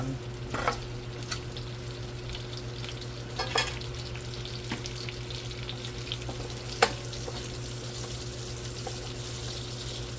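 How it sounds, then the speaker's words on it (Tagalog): Chili sautéing in a pan gives a faint, steady sizzle under a low background hum, with a few sharp clinks of a utensil against the pan. "so gisa lang natin na maayos, gisa natin na maigi para lumabas yung flavor"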